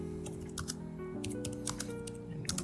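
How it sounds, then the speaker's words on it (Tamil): Fingers type an email on a computer keyboard in quick, irregular bursts of sharp clicks, fairly close, with a steady low hum underneath. "இப்போ நீங்கள் மெயில் பண்ணிட்டு இந்த இதை டைப் பண்ணிவிட்டு கீழே வந்து"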